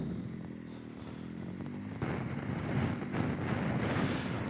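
Motorcycles pass by outdoors in a rising, rumbling roar that grows louder midway and carries on with a broad, rough engine noise mixed with wind buffeting the microphone.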